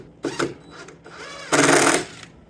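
A power screw gun whirs in short bursts, then one longer run, driving screws through a thin sheet of just over half an inch into a floor joist, close and fairly loud.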